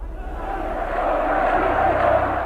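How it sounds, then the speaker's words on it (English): A large crowd of demonstrators at Ceausescu's speech shouts in a dense, continuous roar, loud and sustained with no single voice standing out. "Off camera, demonstrators have broken through barriers and are heading toward the Central Committee building right where Ceausescu is standing."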